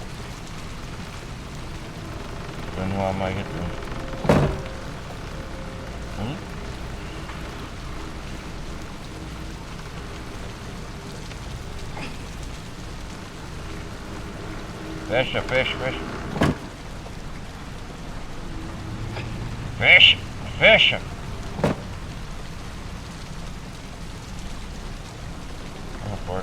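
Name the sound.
rain in the video game Little Nightmares II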